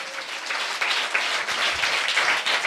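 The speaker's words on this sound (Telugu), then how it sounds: "నమ్మిన వారు చేతుల పైకి గట్టిగా చప్పట్లు కొట్టండి." A church congregation claps hands together with their hands raised during a prayer, a dense, sustained round of applause from many people with no speech.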